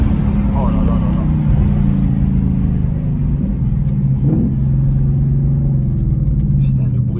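From inside the cabin, a Ford Mustang GT's V8 burbles steadily as the car drives, a loud, deep, constant rumble with speech mixed in.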